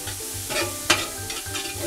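Green onion sizzles in a frying pan for arroz con pepitoria, with quick stirring scrapes over a steady hiss, close and short.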